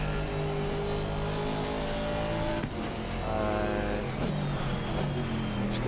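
An Aston Martin GT4 race car engine drones steadily in Assetto Corsa Competizione at the Kyalami circuit, with continuous loud engine noise and rising and falling revs as gears shift.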